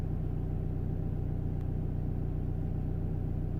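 A BMW X3 2.0-litre diesel engine with an intake fault idles with a steady low rumble and an even knocking pulse, continuous and close, with no voices.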